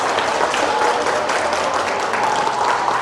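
Large audience at a Yeongwol lecture on laughter and stress bursts into loud, sustained applause, dense and steady with no voices breaking through.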